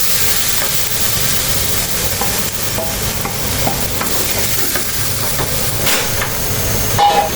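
Vegetables tossed into a hot pan spiced with carom seeds give a steady, loud sizzle with continuous stirring and scraping of the pan, close up and without talk.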